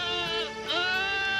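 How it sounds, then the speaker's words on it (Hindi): A goat bleats loudly at night, one long wavering cry that dips briefly in the middle and then rises and holds strong to the end, close and clear with no talking. "इतनी रात गए मेरी बकरी इतना चिल्ला क्यों रही है?"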